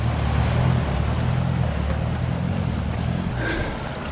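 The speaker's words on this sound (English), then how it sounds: "Just been overtaken by a load of Land Rovers and 4x4 vehicles." A line of Land Rovers and other 4x4 vehicles drives past on a rough, wet upland track in the Cambrian Mountains in bad weather, giving a loud, steady, close engine rumble with road and wind noise.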